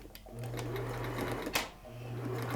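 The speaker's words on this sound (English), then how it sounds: "I'm going to do a straight stitch right along the edge" Sewing machine running a straight stitch along the edge of turban fabric in two steady runs with a short pause between, a quiet whirring hum with a sharp click in the middle.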